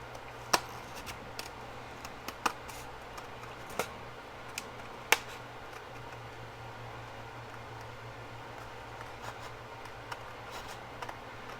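Scissors or a trimmer cutting through two stacked sheets of scrapbook paper together, a faint steady hiss broken by sparse sharp clicks and snips, close and without talk.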